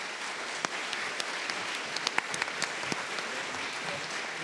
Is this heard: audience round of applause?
yes